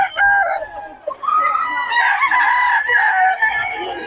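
Chickens and roosters at a poultry seller in Bocaue crow loudly and continuously, with some clucking close by and faint voices underneath.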